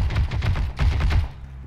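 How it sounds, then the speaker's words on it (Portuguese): Rapid bursts of gunfire in the Heroes & Generals shooter, loud and close, crackling in two quick volleys before fading. "Tô só escutando os tiros."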